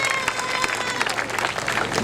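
A church congregation claps to acclaim the Lord, a dense patter of applause from a crowd with voices mixed in, steady for a couple of seconds.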